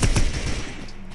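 Rapid gunfire in the online game Madout2 BCO: a quick burst of several sharp shots close together, then a fading tail.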